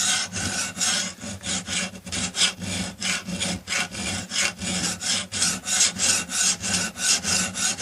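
A hand file rasps across a lawnmower blade edge in steady, rapid back-and-forth strokes, loud and close with a gritty metallic scrape and no talking.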